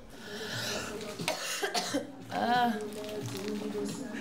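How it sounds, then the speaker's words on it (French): A person coughs several times in short, harsh bursts, close by, with some throat clearing and breathing between them. "Qu'est-ce que tu tousses?"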